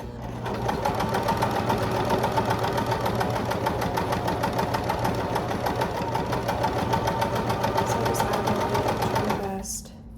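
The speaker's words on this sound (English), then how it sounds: "and then we're just gonna sew it all the way down" A sewing machine runs steadily while stitching a bear paw quilt block from stretch fabric, its fast needle rhythm holding for about nine seconds before it stops near the end.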